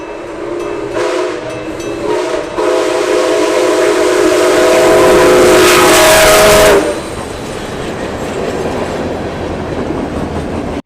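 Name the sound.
CP 2816 steam locomotive train with steam whistle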